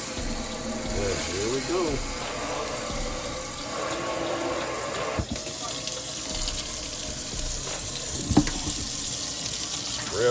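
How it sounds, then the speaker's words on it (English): A kitchen faucet's pull-out sprayer runs water into a sink with a steady, close hiss, and someone speaks briefly over it. "Sprayer works pretty good."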